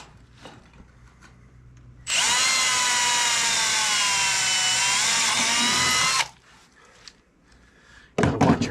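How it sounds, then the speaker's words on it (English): Power drill boring a hole for a pop rivet through sheet metal gable edge flashing, a loud high whine lasting about four seconds, surrounded by quieter handling noises and a sharp clatter at the end. "let's drill a pop rivet in here"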